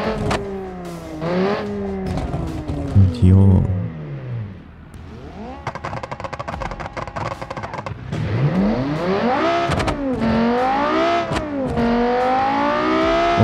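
The most powerful drag race car in the video game BeamNG, its engine revving and rising repeatedly in loud, close bursts with a brief lull, while a voice speaks briefly.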